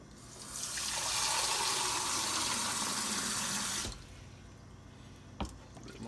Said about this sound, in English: Fill the pan halfway up to the pan in here with water